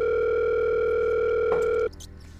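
A steady telephone dial tone hums in a restaurant horror video game, continuous and fairly loud, then cuts off abruptly with a faint click near the end.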